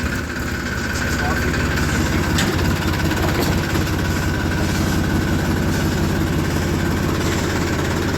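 A tractor engine idles and runs steadily through the whole stretch, a deep continuous rumble on a village road on a foggy morning while hauling sugarcane, with people talking over it.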